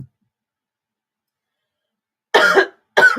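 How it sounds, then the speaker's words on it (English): Two short, sharp coughs come close together near the end, after a long stretch of silence. "I am coughing."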